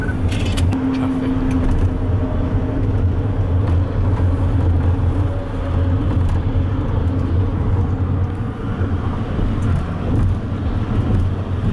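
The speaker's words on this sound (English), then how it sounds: "Traffic." Steady road traffic in Los Angeles near Santa Monica, a continuous loud rumble of passing cars and buses with no gaps, heard close by and alone.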